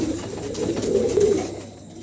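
A pair of pigeons offered for sale cooing nearby, a soft low throaty coo rising and fading over a couple of seconds with faint background noise and no talk.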